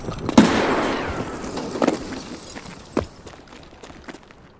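A P90 submachine gun firing SS190 rounds in Escape from Tarkov: one loud, sharp shot, then two fainter, more distant-sounding reports about a second apart, each trailing into a short echo.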